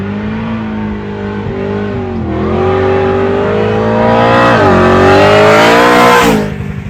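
A 1985 Chevy Camaro with a swapped LS engine drives past loud and close, its V8 note rising and falling through several revs and gear changes.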